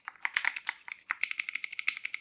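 Fingers type on a Keychron Q6 Ultra keyboard fitted with banana tactile switches, producing a close, quick run of crisp clacky keystrokes in an uneven rhythm that grows faster and more regular in the second half.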